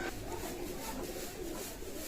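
A Mysore Nila Kamagar teddy pigeon cooing, low and soft, half buried in steady, hissy room noise throughout.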